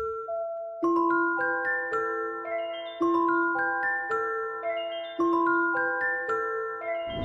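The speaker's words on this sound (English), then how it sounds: "I went with the Celesta preset" Celesta preset from the Kontakt factory library playing an ambient sample melody, bright bell-like notes in repeating arpeggiated phrases that ring and decay, clear and alone.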